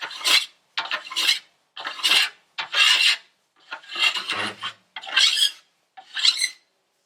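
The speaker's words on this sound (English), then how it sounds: "You can tell by that deeper sound that I'm cutting into solid edge again" Rhythmic rasping strokes of a file cutting into the steel edge near the tip of a new ski, set at a 0.75 degree bevel against a 0 degree base; seven separate close, scraping passes with short pauses between them.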